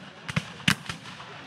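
Gunfire at a Battle of Blountville Civil War reenactment: a few sharp reports crack in quick succession, one louder than the rest, with faint outdoor background between shots.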